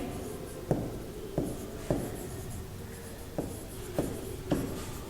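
Chalk or marker writing on a board during a maths lesson: six crisp tapping strokes at uneven intervals, close and moderately loud over a steady background hiss, with no voices.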